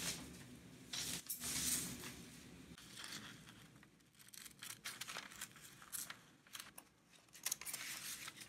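Scissors snipping through paper to cut out a paper apple shape, a steady run of close crinkly cuts and rustling, continuing without speech.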